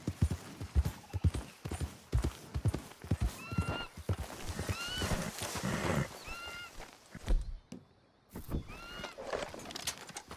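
Horse hooves clip-clop at a steady gait while riding in the Red Dead Redemption 2 video game, with several short neighs and whinnies rising over the hoofbeats and ambient game sounds.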